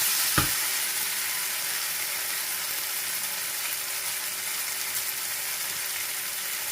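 Something frying in hot oil in a pan, a steady close sizzle that runs the whole time, with a single sharp clack near the start and no talking.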